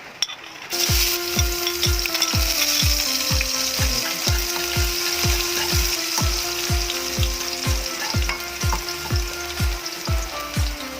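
Garlic fries in cooking oil in a pan for pork igado, giving a loud, steady sizzle and crackle from start to finish, with quick rhythmic scraping or stirring clicks repeating throughout.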